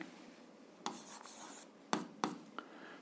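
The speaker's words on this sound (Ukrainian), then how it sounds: "Давайте ми її запишемо." Chalk or pen writing out an algebra function formula during a 7th-grade math lesson: soft continuous scratching strokes with a few sharper taps, close and moderately quiet, with no talk over it.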